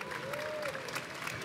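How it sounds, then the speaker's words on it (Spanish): A boxing event crowd applauds a fighter in a brief, steady patter of clapping, with a faint voice audible over it. "Ahí están los aplausos para Maximiliano D'Agata."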